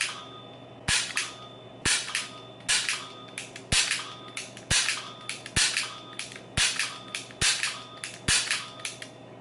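Dry-fire shots with a G-Sight Gen2 9mm laser training cartridge, a series of sharp mechanical clicks roughly one per second, each followed by a rattling clack, loud and close with no talk.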